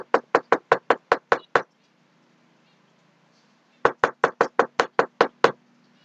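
Knuckles rap on a door in two quick bursts of about eight sharp, close knocks each, separated by a pause of near silence.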